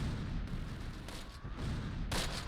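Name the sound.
artillery salvo in the video game Close Combat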